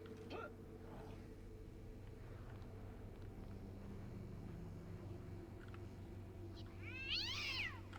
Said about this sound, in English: You have a pet cat?